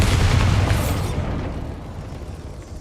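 Bombarda blasting spell from Hogwarts Legacy, a loud booming explosion that bursts at once and then rumbles away into a fading tail.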